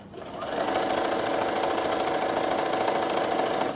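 A Bernina sewing machine runs at steady speed, a close, continuous mechanical whir with a fine rapid stitching rhythm that starts up quickly and holds level throughout, with no pauses for reversing evident.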